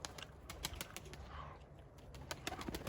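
A tumbler pigeon flies in and comes down to land on a foggy day, with soft wing flaps and sharp intermittent clicks over faint background noise, and no voices.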